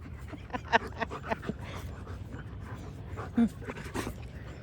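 Dogs panting close by in quick, soft rhythmic breaths, faint and continuous, with occasional small clicks and shuffles and no talking.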